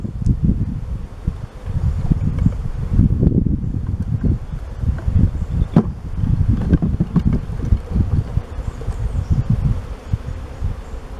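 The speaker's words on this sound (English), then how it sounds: "I'm gonna break these bees over into the hive." Bees being shaken from a box into a beehive outdoors, with a constant close buzzing swarm, rustling knocks and bumps of wooden hive parts, and some wind across the microphone.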